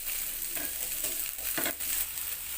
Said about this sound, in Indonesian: Tumis kembali hingga cabainya layu.